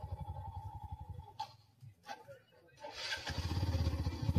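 A motorcycle rides along a rough road toward Kalu Waterfall in Maharashtra, its engine pulsing steadily and close by, easing off briefly midway before revving louder again.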